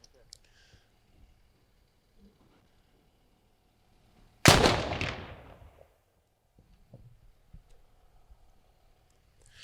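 A muzzle-loading gun fired with a percussion cap and a half charge of powder booms once, loud and close, at a traditional New Year's shooting, with a decaying echo and faint movement before and after.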